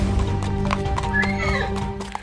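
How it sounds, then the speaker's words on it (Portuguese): A Mangalarga Marchador horse, a gelding, clip-clops with a run of close hoofbeats and gives a loud, wavering neigh partway through, with faint voices in the background. "O Cigano amansou, virou um cavalo tranquilo de ser tocado por qualquer um dos peões do Aras."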